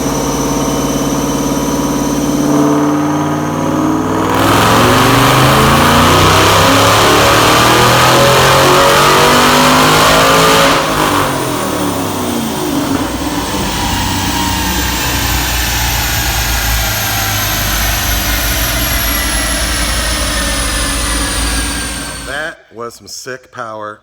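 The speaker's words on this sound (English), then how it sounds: "Let's make a dyno pull, and now let's see what kind of power this baby makes." A powerful supercharged V8 in a 2014 Mustang GT500 revs hard in one long sustained dyno pull, its pitch climbing steadily and loudly before cutting off abruptly near the end.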